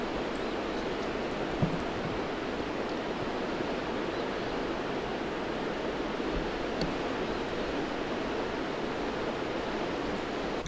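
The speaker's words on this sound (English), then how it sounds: "Crazy view of the waterfall from here." The waterfall at Lower Burnt Chute, the last drop of a whitewater river run, gives a steady, unbroken roar of rushing water heard from a short distance away.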